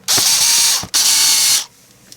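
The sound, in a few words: screws being tightened on a DeLorean license plate bezel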